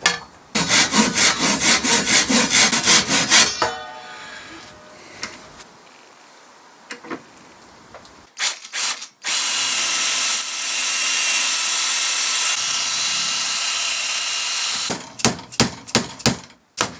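A hand saw cuts through a wooden joint on a tiny chair being restored, with rapid rhythmic rasping strokes, a pause, then a long steady sawing pass and a few final strokes, close and loud.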